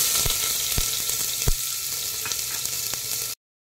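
Chopped onion going into hot oil with crackling cumin and mustard seeds in a pressure cooker, a steady close sizzle with a few sharp pops, ending abruptly.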